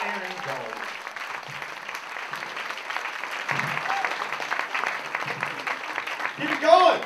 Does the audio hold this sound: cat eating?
no